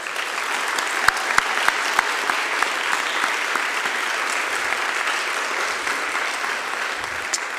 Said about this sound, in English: So I want to give these two guys a round of applause.